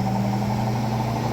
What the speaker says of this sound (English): So I'm going to go back to rinse to drain it